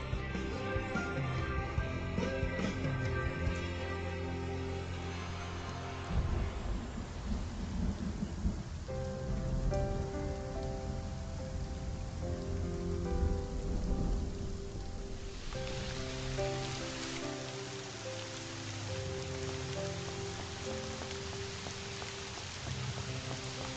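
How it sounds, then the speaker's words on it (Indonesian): Steady rain with thunder in a drama scene set in Shanghai, a continuous hiss of falling rain mixed with low rumbles and a music bed, the downpour surging louder about two-thirds of the way through. "Hujan di Shanghai sampai ke Beijing."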